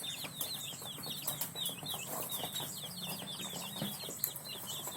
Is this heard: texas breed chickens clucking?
yes